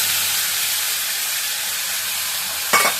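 Onion and bay leaf frying in oil give a steady, loud broadband sizzle that runs unbroken, with a brief clatter of stirring near the end. No voices.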